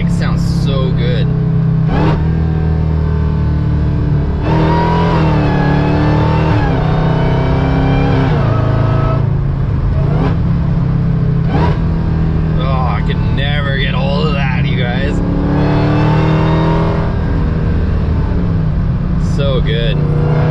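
Hellcat-swapped Dodge Dakota pickup whose engine blips and revs loudly on downshifts, heard from inside the cab with a steady low engine drone throughout and several rising and falling rev bursts, while a person talks over much of it.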